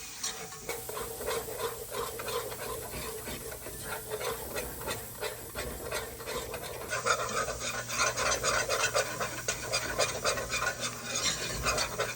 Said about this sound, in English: We want to keep it stirring the whole time.